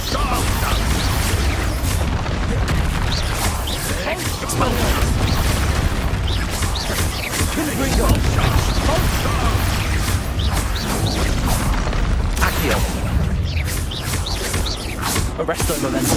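Spell explosions in the Hogwarts Legacy video game on PS5 during a hard-difficulty battle give dense repeated blasts, crashes and booms, loud and continuous over a busy combat soundtrack, with character voices shouting throughout.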